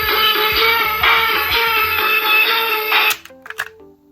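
Cassette playing in a repaired Sony TCM-20DV Walkman, giving loud, rhythmic music with regular low beats that cuts off abruptly, followed by a few scattered clicks and taps.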